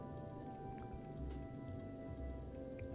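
Steady rain falling in the video game Final Fantasy XV, a soft continuous patter and hiss over a low rumble, with faint music tones held in the background.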